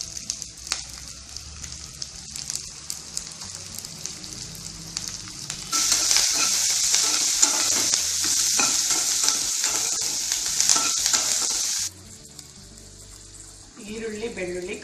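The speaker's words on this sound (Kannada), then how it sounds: "ಈರುಳ್ಳಿ, ಬೆಳ್ಳುಳ್ಳಿ, ಕರ್ಬೇವಿನ ಸೊಪ್ಪು ಮುಕ್ಕಾಲು ಬೆಂದಿದೆ ಎಣ್ಣೆನಲ್ಲಿ" Onion, garlic and curry leaves fry in a couple of spoons of oil for a South Indian bassaru curry, a soft sizzle with stirring clatter that swells into a loud, dense hiss midway before dropping back.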